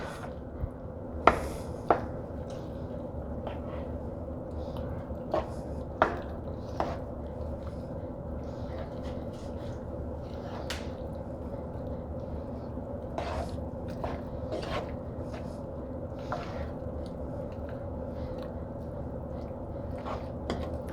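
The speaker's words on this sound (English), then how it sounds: "We're going to stir this all up." Chicken, bacon and penne pasta with halved fresh tomatoes are stirred in a pan, producing faint, scattered utensil clacks and scrapes over a quiet, steady background.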